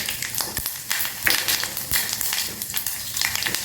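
Chana dal, urad dal, mustard seeds and cumin sizzle and crackle in a spoonful of hot oil for tempering, a close, continuous frying hiss with small pops throughout.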